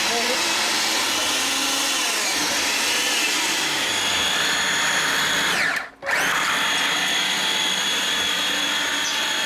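A kitchen food processor pulsing cauliflower for mash gives a loud, steady whirring motor drone with a brief cut-off midway before resuming.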